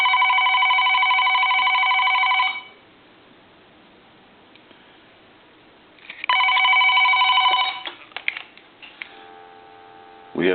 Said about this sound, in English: We're going to ring the phone.